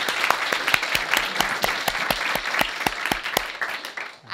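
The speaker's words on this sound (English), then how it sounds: "Let's clap first." Audience claps after a philanthropy breakout talk, a fairly brisk run of distinct hand claps, some sharp and close, tapering off near the end.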